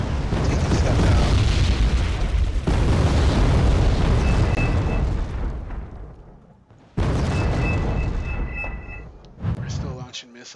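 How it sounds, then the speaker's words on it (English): Aircraft bombs bursting in Wargame: Red Dragon: loud, dense rumbling blasts pile up into a sustained roar, drop away, then a fresh heavy impact hits, followed by a tail of high metallic ringing debris. "So right here, a bunch of bombs coming down, taking stuff out."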